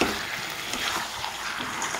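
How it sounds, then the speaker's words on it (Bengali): Mutton being fried down in a pan for Bengali mutton kosha produces a faint, continuous sizzle with soft crackles, heard alone at low volume. "তো মাংস মোটামুটি কষানো হয়ে আসছে।"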